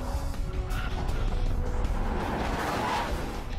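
A Bugatti Veyron brakes hard from speed, its rear wing rising as an air brake, with a rushing roar of engine and tires and a faint squeal, heard without any talking.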